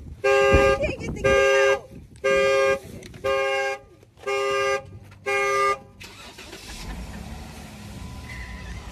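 A Jeep's alarm honks in six evenly spaced loud horn blasts at close range, then stops, leaving rustling and faint voices as people get into the vehicle.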